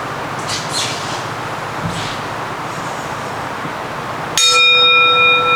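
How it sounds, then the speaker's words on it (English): A meditation bell is struck once, ringing out clear and sustained with shimmering overtones after a stretch of quiet room noise. "I'll signal the start of the meditation with 1 ring of the bell"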